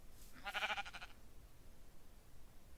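A sheep in the video game Minecraft gives one wavering bleat, clear and close, lasting about half a second early on, then only faint background hiss remains.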